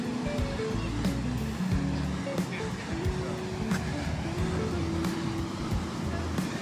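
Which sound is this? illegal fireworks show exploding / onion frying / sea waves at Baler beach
sea waves at Baler beach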